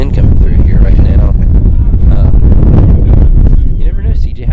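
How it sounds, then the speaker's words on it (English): A strong gust of wind buffets the microphone at a high school baseball field, loud continuous rumbling roar with some surging, while voices of announcers talk faintly beneath it. "A real strong gust of wind coming through here right now."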